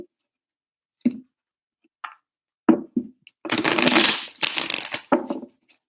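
Tarot cards are shuffled by hand in a few separate bursts, with short taps and riffles followed by a couple of longer, louder shuffling passes, close and alone with no talk.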